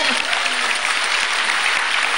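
Steady audience applause, a dense even wash of clapping from a crowd at a talk, sustained and fairly loud throughout with no break.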